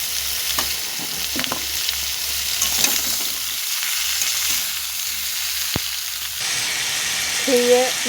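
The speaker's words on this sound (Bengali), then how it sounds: "ঝিঙে আলু হালকা করে ভেজে নিয়েছি" Ridge gourd and potato pieces frying lightly in a pan with turmeric and salt, a steady close sizzle with occasional stirring scrapes, heard alone without talk.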